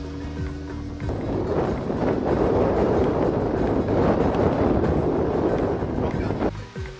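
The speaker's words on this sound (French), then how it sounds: "À bord de notre pirogue à moteur, comptez 25 minutes." A motorized pirogue, a dugout canoe with an outboard engine, drones steadily across the water, with constant engine roar mixed with wind buffeting and splashing throughout.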